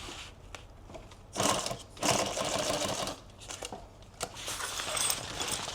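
A sewing machine stitches Velcro onto a medical backpack, with short bursts of fast mechanical whirring separated by quieter pauses and small handling clicks, close up.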